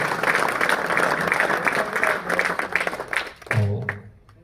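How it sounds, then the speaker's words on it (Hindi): A crowd at an ashram ceremony for a yagyashala ground-breaking claps together in a steady, fairly loud burst that thins out and fades near the end, with a voice briefly rising as it dies away. "एक बार जोर से ताली बजाइए"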